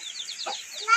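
Chickens cluck in short repeated calls at moderate distance, with a brief louder rustle near the end and no talking.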